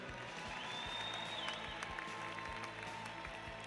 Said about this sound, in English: one more round of applause for the ladies' doubles challenge champions here tonight.